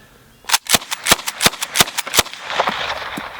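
A Lightning Baby Carbine in .38 slam-firing in a fast run of about eight sharp, close shots over two seconds, followed by a fading echo.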